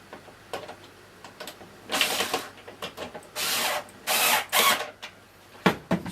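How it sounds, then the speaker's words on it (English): A power driver runs screws back into a 2013 Hoover Purepower vacuum cleaner's housing, with several short whirring bursts of a second or so separated by pauses, close and fairly loud. "And then put the screws back in for this."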